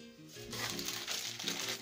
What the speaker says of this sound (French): Avec du papier bulle,